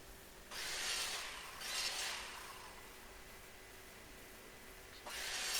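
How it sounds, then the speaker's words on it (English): A file rasps against a wooden block, taking off splinters in a few broad, soft strokes spread across several seconds, close and fairly quiet with pauses between. "Just make sure to file all the splinters."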